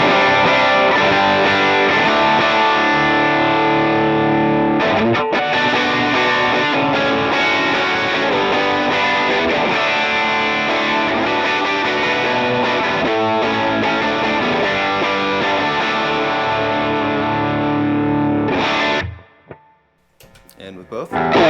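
A heavily overdriven electric guitar, played through a Line 6 HX Stomp, rings out in thick, sustained distorted chords for about nineteen seconds before cutting off abruptly.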